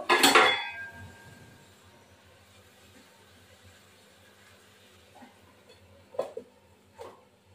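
A lid lands on a cooking pot of steamed cauliflower with a loud metallic clatter right at the start, followed a few seconds later by two lighter clinks.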